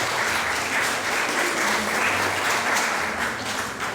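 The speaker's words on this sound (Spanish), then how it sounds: "Vamos a recibirla también con un fuerte aplauso." Sustained applause from an audience at an evening lecture welcoming a speaker to the podium, dense and steady clapping filling the room at close range without pause.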